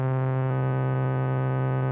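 A synthesizer waveform run through a bit crusher and an alias filter gives a steady, buzzy, harmonically rich tone whose texture coarsens and shifts about a quarter of the way in, played alone with no voices.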